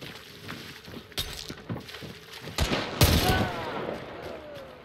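Gunfire in Hunt Showdown, with several scattered sharp shots and a louder blast near the end that rings out with a long tail, mixed with other scuffling game noise.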